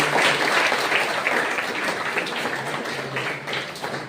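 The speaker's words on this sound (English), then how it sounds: "Please give him a round of applause." A crowd at a hackathon gives a sustained round of applause, dense and fairly loud throughout, easing slightly toward the end.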